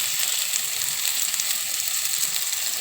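Potatoes fry in a pan while turmeric goes in, giving a steady, close, bright sizzle that holds evenly throughout with no talking.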